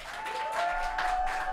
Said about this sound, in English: I want you to give her all of the love you have left in your heart through this applause.